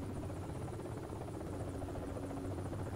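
An enemy helicopter in the military shooter game Project Reality gives a steady, droning rotor buzz that holds constant and fairly close for the whole moment, with no voices.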